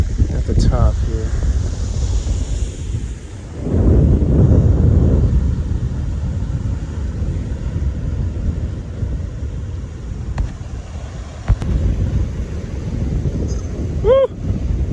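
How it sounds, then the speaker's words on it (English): Strong wind of about 30 miles an hour sweeps a rocky hilltop by the sea in Puerto Rico, roaring and buffeting the microphone throughout, with a person speaking briefly at the start and end. "It's windy up here."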